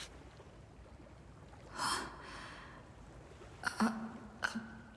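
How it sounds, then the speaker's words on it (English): Faint breathing noises, a couple of soft sharp gasping breaths and snorting inhales, heard close against a quiet noisy background. "Breathing noises."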